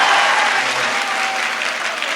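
A large crowd at an Urdu poetry mushaira in Adilabad claps together, a dense, even wash of applause that holds steady for the whole moment.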